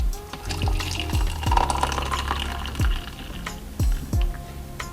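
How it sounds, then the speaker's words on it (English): Hot water gurgles and splashes as it is poured into a cup for tea, with a rising filling tone and a few interrupted pours. "there's just one thing left to do, and that's pour your water"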